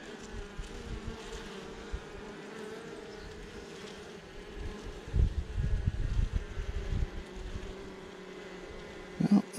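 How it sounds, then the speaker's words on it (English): Honey bees buzz steadily around an open hive during an inspection, a continuous close drone with louder swells near the end and some handling noise. "Wow, there is a big bee, but that's not the queen bee."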